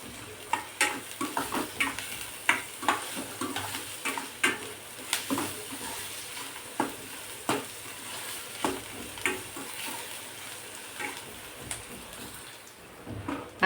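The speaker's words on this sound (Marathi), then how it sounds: "कांदा, मिरची, लसूण आता व्यवस्थित असं परतून घ्यायचं आहे आपल्याला" Onion, chili and garlic are stir-fried in a pan with a constant soft sizzle, while a spatula scrapes and taps the pan in an irregular rhythm, close by with no voices.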